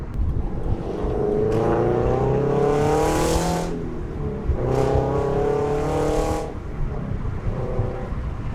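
A full bolt-on, E85-fuelled Subaru BRZ revs hard near 8,000 RPM through short gears, with two sharp climbing pulls, each cut by a quick shift, loud and close from inside or beside the car.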